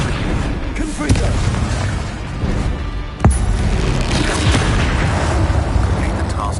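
Explosive Confringo spell blasts in the Hogwarts Legacy video game on PS5, a sharp booming burst near the middle over a dense, continuous bed of game sound effects and rumble.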